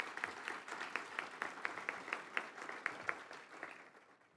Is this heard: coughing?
no